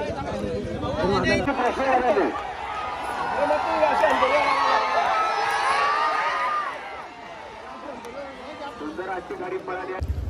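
A large crowd at a bullock cart race ground in Khidkali shouts and cheers loudly in a dense, sustained roar of overlapping voices that fades somewhat toward the end.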